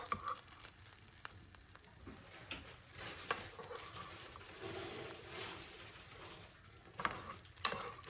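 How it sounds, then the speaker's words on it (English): Faint sizzling in a frying pan with a spoon scraping and clinking against metal as browned chicken pieces are lifted out, a few sharper taps near the end. "using a spoon to take out the chicken from the pan and transfer it to the plate"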